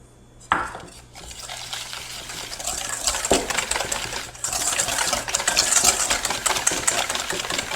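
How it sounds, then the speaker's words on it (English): Coconut oil or butter being whisked with sugar and egg in a bowl for a gluten-free peach tart's almond cookie crust, a busy rapid scraping and clinking that builds and continues steadily. "So I usually whisk in the coconut oil or butter with the sugar and the egg."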